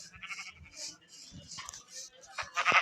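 Minecraft sheep let out several short bleats in a row, interleaved with game noises and someone speaking Turkish.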